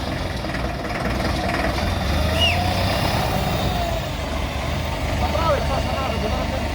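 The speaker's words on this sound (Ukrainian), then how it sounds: "покупець, який приїхав на тест-драйвчик, його довго чекав, цього тракторця, вже на ньому катається." A Solis 105 tractor engine idles and runs during a test drive, a steady low diesel rumble at moderate distance, with talk over it.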